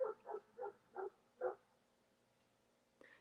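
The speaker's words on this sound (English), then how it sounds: "if they keep barking out there" Dogs barking outdoors in wooded country where black bears live: five evenly spaced barks, moderately distant, followed by quiet and a brief fainter sound at the end.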